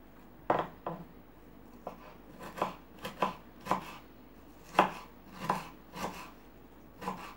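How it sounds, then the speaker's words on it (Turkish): A knife chops a large pepper on a board in about a dozen distinct, fairly quiet taps, spaced unevenly with short pauses between cuts, close by in a quiet kitchen. "bir tane büyük boy biber doğruyorum"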